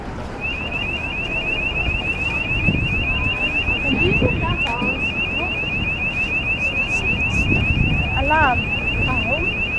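An alarm sounds at the Tower of London as one steady, unbroken tone that runs nearly the whole clip, over outdoor wind noise and scattered voices of a crowd nearby.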